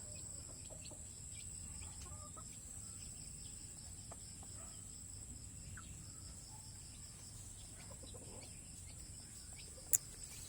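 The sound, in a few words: chickens clucking in their coop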